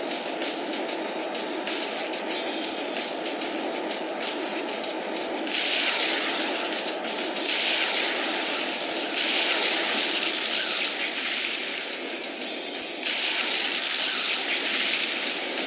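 A military jet takes off over the sea in an Arctic level of a video game, a loud continuous engine roar with surging bursts of high hiss, steady and close.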